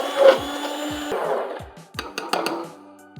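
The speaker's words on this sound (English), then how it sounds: "I use the immersion blender to blend everything" An immersion blender whirs through tomato soup in a home kitchen, loud and close, running in short bursts with a high motor whine that stops and restarts.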